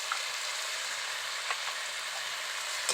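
Spices with salt, turmeric and a little chilli powder frying together with jaol fish in a pan, a steady close broadband sizzle with faint stirring ticks, no voices.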